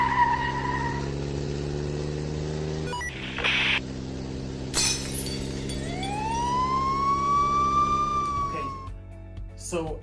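Alarm siren effect in a Lego animation rises in a long wailing sweep over a low droning hum, preceded by brief synthetic bursts, with a voice speaking over it.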